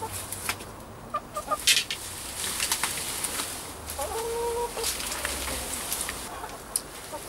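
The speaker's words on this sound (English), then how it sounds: "we're even going to let the hens into the polytunnel" Hens cluck and murmur inside a polytunnel in a suburban garden, with scattered soft calls and one drawn-out cackle against quiet background noise.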